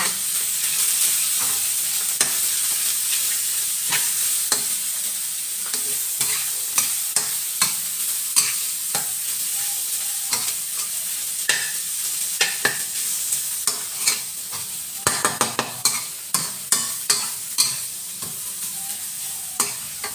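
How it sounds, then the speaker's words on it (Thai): Blanched mussels, shrimp and squid are stir-fried in chili paste, a close, continuous sizzle punctuated by many sharp scraping and clattering strokes of a utensil. The strokes grow quicker and denser toward the end. "ใส่หอยแมลงผู้ลวกกุ้งลวกแล้วก็หมึกลวกลงไปเลยจ้ะ ทุกอย่างให้เข้ากันจ้า"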